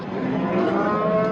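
Sheep bleat on a farm where breeding sheep and rams are raised: one sustained, steady harmonic bleat, loud and close, with no talk over it.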